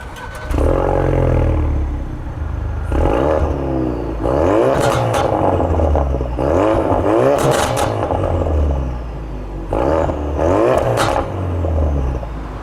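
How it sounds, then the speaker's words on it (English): A Ford Focus RS engine revs up and down in several bursts, its raspy exhaust popping and crackling sharply as the revs drop off between pulls. "the raspy exhaust that pops and crackles away a little bit at you"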